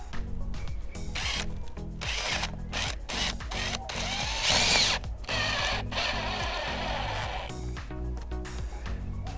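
A power drill drives waterproof deck screws into vinyl rain gutter brackets, whirring loudly in repeated bursts with short pauses between runs and ratcheting clicks as the screws seat.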